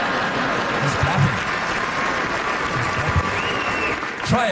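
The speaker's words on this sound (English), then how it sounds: "Just clapping." A studio audience at a talk-comedy show claps in a steady, close, continuous burst of applause, with a voice briefly audible under the clapping.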